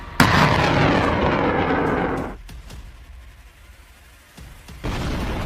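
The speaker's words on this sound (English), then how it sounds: "HIMARS reacts quickly and opens fire." HIMARS rocket artillery opens fire with a loud launch blast and a long roaring rush that fades after about two seconds, followed by sharp distant cracks, then another roar.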